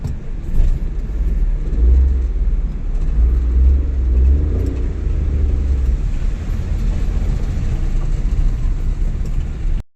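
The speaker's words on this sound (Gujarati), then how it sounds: "આપણે ગાડી નાખીએ છીએ એવું પાણીના અંદર" A car pushes through rain floodwater, a loud continuous low rumble of engine and churning water swelling briefly and then holding steady nearby.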